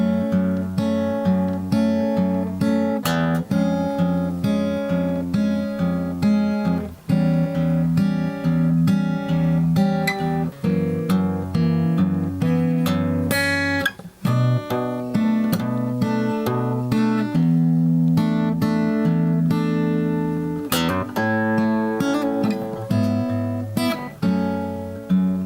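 Solo acoustic guitar plays the chorus of a song, arranged for one guitar, with steady picked chords and bass notes ringing loud and close, alone with no talk.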